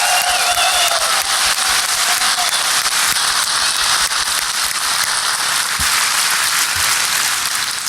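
Audience at the DEF CON hacking conference breaking into loud, sustained applause, a dense crackle of many hands clapping at once that keeps an even level throughout.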